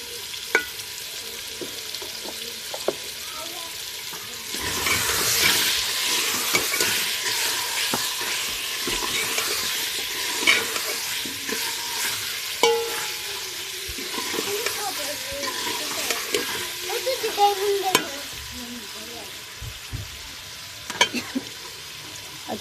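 Spices with cumin powder frying and being stirred in a pan while making desi lobia: a continuous close sizzle and hiss with scraping stir strokes and occasional clinks, a voice faintly present.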